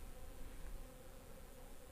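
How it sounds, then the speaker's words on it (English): Bees buzzing around the open power cable door of an RV, a steady faint insect drone that continues throughout with no voices. "And it's become very popular with some bees."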